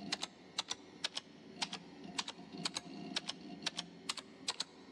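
Keyboard typing in an office in a 1-bit horror video game, a series of crisp, close key clicks, often in quick pairs, spaced irregularly over a faint background hum.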